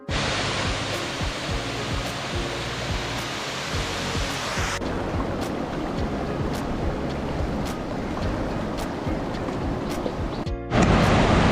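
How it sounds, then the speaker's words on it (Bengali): Waterfall water at Cherrapunji, Meghalaya, pours down in a loud, steady, broadband rushing roar that fills the whole stretch without pause. "ঝর্ণা বলতে ওই ঝর্ণার পানিটা যেটা আসতেছে সেটাতে এইটা আবার নিচে নামতেছে"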